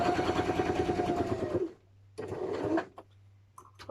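A sewing machine stitching a bow hair clip runs in a loud, fast mechanical whir, stops, then restarts for a shorter burst, with light handling clicks after.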